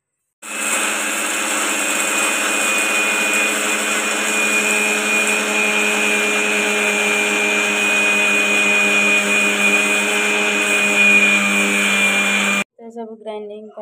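A mixer grinder runs steadily for about twelve seconds, grinding a blend of chhatua ingredients for small children, a loud continuous motor whine that stops abruptly, followed by a brief moment of faint voice.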